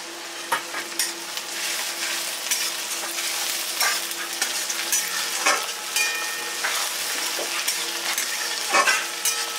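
Spices, chopped ginger and green chili frying in oil with browned onion for mung dal tadka, a continuous close sizzle broken by repeated scrapes and clinks of a spatula stirring the pan.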